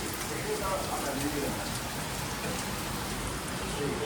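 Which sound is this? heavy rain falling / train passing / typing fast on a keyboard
heavy rain falling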